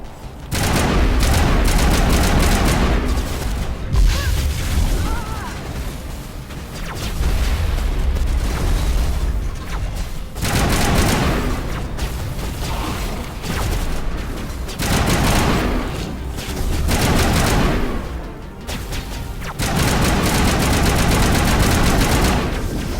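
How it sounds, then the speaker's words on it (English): Heavy weapon fire in the Mass Effect Legendary Edition video game, loud repeated blasts and booming impacts in long dense barrages with brief lulls, near and forceful throughout. "Let me switch to my big gun. Hopefully it can do some damage."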